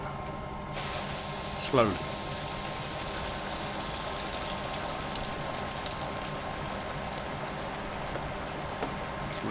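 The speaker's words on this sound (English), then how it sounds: "Give it a good shake and then stick it in the fryer." Floured beef pieces deep fry in a small fryer, giving a steady, close sizzling hiss throughout, with a brief swell of bubbling early on and one short spoken word.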